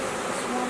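Honeybees swarm around a newly installed package hive in a dense, steady buzzing drone that stays close and even throughout the brief moment.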